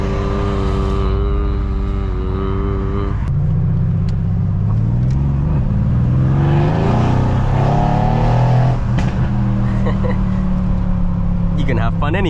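A powerful car engine idles close by, then revs up in several rising and falling surges, loud and throaty, before dropping back.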